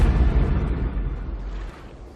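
A bomb going off in a Minecraft animation, heard as a loud, deep, rumbling boom that is already under way and fades slowly over about two seconds, with no voices.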